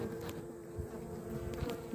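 A swarm of honey bees inside a hive box produces a steady, dense buzzing hum, close and continuous throughout, with no voices over it.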